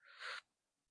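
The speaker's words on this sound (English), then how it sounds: "Sip of air in." One short, sharp breath drawn in through the mouth during a yoga breathing exercise, faint and close, followed by quiet.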